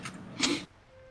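A single short sneeze, a quick breathy burst followed by a brief tail into a quiet room.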